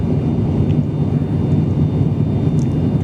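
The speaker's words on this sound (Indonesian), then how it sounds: "naik pesawat ATR 72/600 dari Halim Perdana Kusuma ke Adi Sucipto" Steady, loud cabin drone of an ATR 72-600 turboprop airliner in flight between Halim Perdana Kusuma and Adi Sucipto, a continuous low rumble and hiss with no breaks and no voices.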